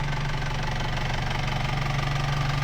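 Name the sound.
1994 Isuzu TFR pickup engine running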